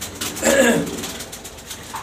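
A female pigeon gives a single brief coo, close and clear, followed by quiet background and a faint second sound near the end.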